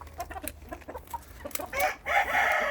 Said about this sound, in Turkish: Bugün bir horoz gördüm.